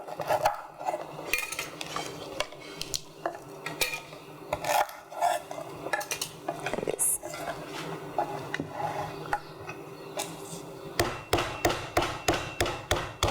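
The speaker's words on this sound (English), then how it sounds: "First, I'm going to brush the lemongrass. I'm using mortar and pestle." Lemongrass is pounded with a mortar and pestle in a kitchen, producing a series of close, hard knocks and taps that speed up into a quick steady rhythm of strikes toward the end, with no talk.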